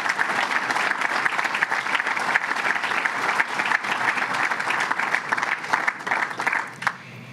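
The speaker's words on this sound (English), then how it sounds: "So let's give them a round of applause and thank them." Sustained, loud applause from a crowd at a public announcement at a fire department, dense clapping that holds steady for several seconds before thinning out at the end.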